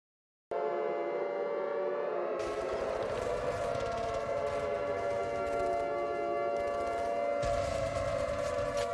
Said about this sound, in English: Why did you hear sirens?